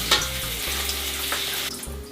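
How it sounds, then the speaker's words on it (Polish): Freshly cut green beans are rinsed in a colander under running water, giving a steady, close hiss of flowing water with no voices. "Wystarczy przełożyć ją na durszlak i przepłukać dokładnie."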